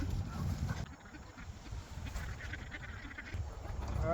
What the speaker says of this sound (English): We're gonna keep an eye on the ducks.